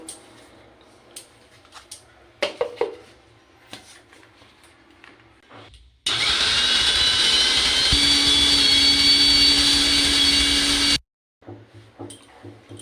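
A mixer grinder roars on close and loud for about five seconds, whirring steadily as soaked lentils and a little water are ground into pakora batter, with talking before and after.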